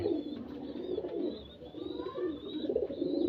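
A large Kaldama pigeon coos in soft, repeated low murmurs close by, with faint chirps from other birds in the background.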